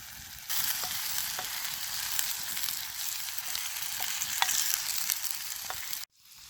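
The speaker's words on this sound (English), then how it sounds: "When the edges of onion become brown, that means it's done, so add meat" Meat frying with browned onions in a pan for goulash, giving a steady bright sizzle with occasional crackles and stirring scrapes, loud and close, ending abruptly.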